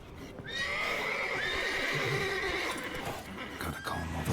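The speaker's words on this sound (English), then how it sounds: "Gotta calm all the horses before they wake the guards." A loud, drawn-out horse whinny from The Witcher 3: Wild Hunt video game rises and trembles for several seconds, with faint hoof clops and rustling behind it.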